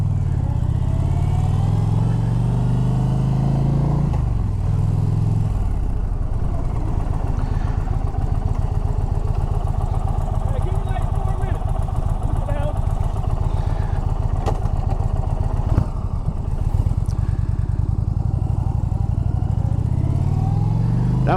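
A motorcycle engine idles close by, then rises in pitch as the bike pulls away and settles into a steady, loud running drone, with a brief voice early on.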